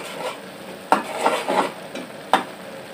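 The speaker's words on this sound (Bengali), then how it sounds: "এগুলো একটু ভালোভাবে কষাতে হবে মশলে" Spices with turmeric and salt being stir-fried for a pangas fish curry, a soft sizzle broken by a few sharp scrapes of the spatula against the pan, close and with no talk.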